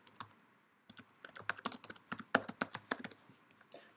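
Keys clatter on a computer keyboard in quick, irregular bursts of close-up typing, with short pauses between the clusters of strokes and no voices.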